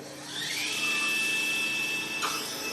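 The Spinergy ZX1 power attachment, clamped to a wheelchair's axle, runs as a high electric motor whine that rises at the start, holds steady for about two seconds and shifts pitch briefly near the end.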